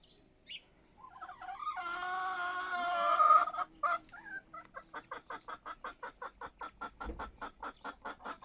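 Backyard chickens, moulting hens shedding feathers, cluck and squawk up close, a drawn-out call giving way to a steady run of short rhythmic clucks.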